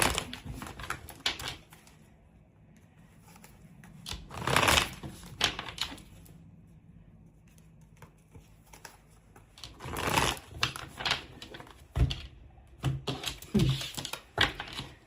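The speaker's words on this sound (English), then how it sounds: "Let me shuffle again." Tarot cards shuffled by hand during a reading, giving bursts of riffling and flicking around seconds 4–5, 10 and 13–14, with quieter handling in between and no talk.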